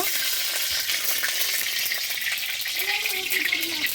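Mustard oil heats in a hot pan for a vegetarian potol paneer korma, giving a loud, close, steady sizzle with faint crackles throughout.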